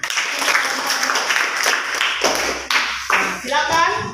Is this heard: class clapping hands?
yes